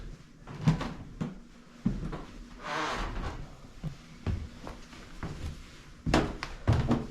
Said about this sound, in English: Gotta love the creaky creaky old steps here.